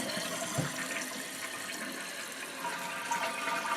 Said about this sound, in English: Yeah, flush it again, but hold that down for a minute